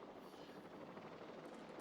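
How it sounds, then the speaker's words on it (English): Helicopters in the video game Jurassic World Evolution 3 produce a steady, dense rotor drone that holds at an even, moderate level throughout with no talking. "Look at all the helicopters."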